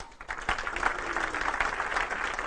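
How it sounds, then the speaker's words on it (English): An audience claps for a man about to come up on stage, a moderate, steady patter of many hands heard from within the room and sustained throughout. "give him a round of applause"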